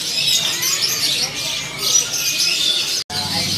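Caged songbirds, magpie-robins and kacer, chirp and trill in a small bird shop kiosk, a steady run of bright high calls close by with a brief cut near the end.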